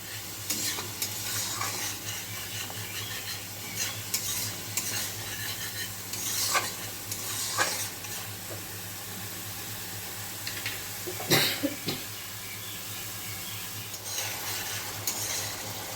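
Spice paste sautéed in oil, with a steady low sizzle and the scraping clinks of a spoon stirring against the pan, faint and continuous with occasional sharper knocks.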